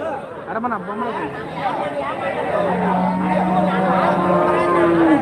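Cattle and calves low and moo at a busy livestock market in Orappam, Krishnagiri district, Tamil Nadu, with a long sustained moo in the middle and a murmur of people talking in the background.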